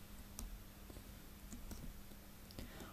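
A few quiet mouse clicks on the Add button in macOS, scattered sharp ticks over a faint steady hum, with no voices.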